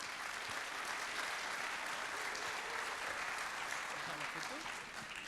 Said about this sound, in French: Et on les applaudit une deuxième fois, s'il vous plaît.